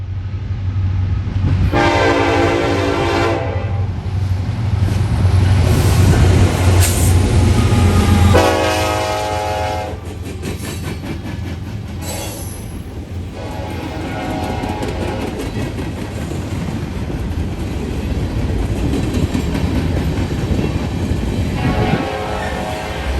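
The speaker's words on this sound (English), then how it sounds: "171 heads west through London with an SD70 Ace and a UP AC45 CCTE for power, hauling a long train" A long freight train led by an SD70ACE and a Union Pacific AC45CCTE passes through London, with repeated loud horn blasts over heavy engine rumble, then steady rolling clatter of cars going by.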